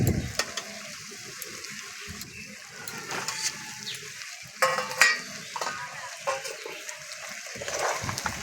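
Fried potatoes are stirred into mutton curry cooking in a pan with ground spice paste. The sound is a close, steady sizzle broken by scraping stirs and clinks, and a few louder bursts come near the middle.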